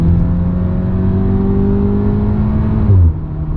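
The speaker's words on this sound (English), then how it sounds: "I should be able to ride this all the way out and then bounce it off the rev limiter." A Volkswagen with a 7-speed DSG gearbox pulls hard in second gear, its loud cabin engine drone rising steadily in pitch, then a brief surge and a sudden drop near the end as the revs cut back.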